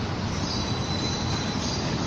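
A Bangkok Skytrain rolls past at close range, a loud, steady rumble of rail cars with faint wheel squeal and a high whine running throughout.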